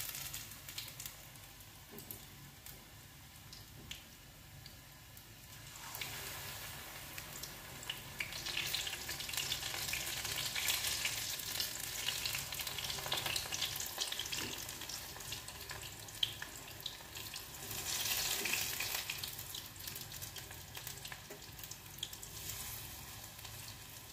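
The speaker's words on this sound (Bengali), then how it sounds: "তেল ছড়িয়ে বড়া আর কটা ভেজে নিচ্ছি" Helanchi greens fritters frying in hot oil, a steady sizzle that swells louder in the middle and again near the end, with no voices.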